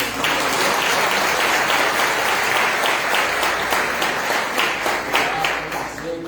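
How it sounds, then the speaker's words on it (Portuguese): Church congregation applauding during a service, loud sustained clapping from a crowd that fills the whole stretch without a break. "Então aplauda Jesus pela mão"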